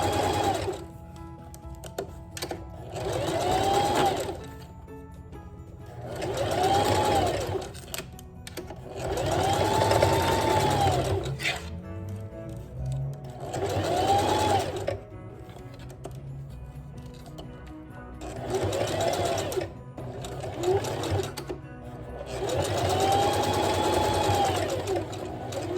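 Sewing machine back stitching a wig closure, running in several short bursts of rapid whirring needle chatter separated by brief pauses, close and fairly quiet, with no talk.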